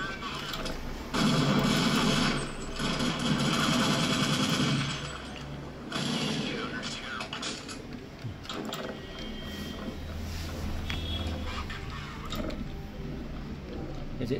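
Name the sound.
gunfire in Counter-Strike video game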